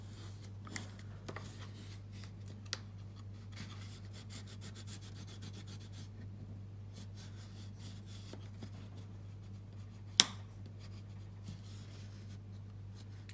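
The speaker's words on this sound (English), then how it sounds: "I'm using my bone folder to get that stuck down really well. So just running that bone folder over" A bone folder rubbed along folded cardstock on a Stampin' Up chocolate box: soft, faint scraping strokes over a low steady hum, with a few sharp taps and one louder click near the end.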